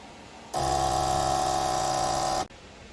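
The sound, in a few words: fuel injectors firing on a test bench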